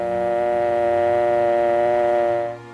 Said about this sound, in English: Remove the receiver and listen for the dial tone.